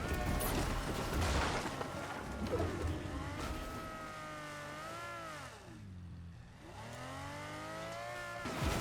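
A car driving over a mountain in Fortnite Zero Build, its engine droning steadily and close, the pitch sliding up and down as it climbs and dips, with a brief dip in level midway.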